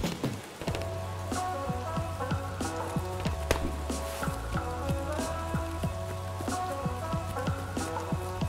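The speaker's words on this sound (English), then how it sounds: "Alright, it's raining now." Rain falls steadily in Escape From Tarkov, a constant hiss with scattered drip and patter under game effects and tonal music, with no talk over it.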